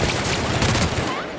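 Rapid bursts of gunfire in the video game Peril on Gorgon, a brief dense volley that is loud and close, fading slightly at the end.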